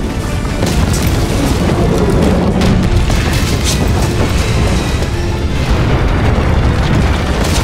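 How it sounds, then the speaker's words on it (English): A bomb explosion in the video game Broken Sword 3 rumbles as a loud, sustained roar with crackling bursts throughout, heavy low-end boom filling the whole stretch without voices. "Bomb! Get down!"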